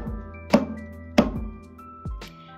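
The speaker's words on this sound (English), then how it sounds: "and the open sounds like this." Open-tone strokes struck by hand on a frame drum, three resonant hits with a brighter ringing attack and short decay, spaced about a beat apart, close and moderately quiet with no talking.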